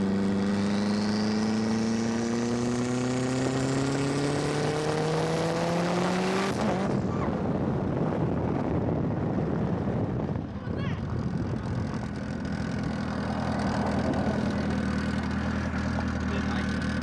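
Mitsubishi Evo 8 engine on a street pull at 45 psi boost: a loud, steadily rising rev for about six seconds, then a sudden broad roaring rush of wind and road noise that continues to the end.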